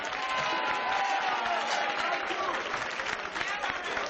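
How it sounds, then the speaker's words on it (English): Audience at a live 1993 evening show breaks into a full round of applause, dense and steady clapping that fills the room for several seconds without pause. "Warren, Tobago Estrada, round of applause."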